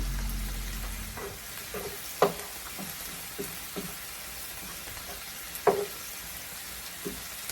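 Onion and garlic sautéing for pancit sotanghon, a soft continuous sizzle in the pan broken by several sharp clicks and scrapes of stirring, close and fairly quiet.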